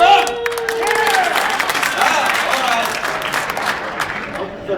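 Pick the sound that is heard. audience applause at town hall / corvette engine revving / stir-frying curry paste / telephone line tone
audience applause at town hall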